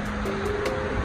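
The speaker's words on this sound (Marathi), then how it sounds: "या ठिकाणी परत असं नदीचा खूप प्रवाह आहे" A strong river current rushes along a rocky trek route toward Kalu waterfall, a loud, steady roar of flowing water close by.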